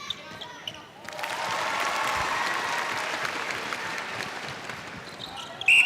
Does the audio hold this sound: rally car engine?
no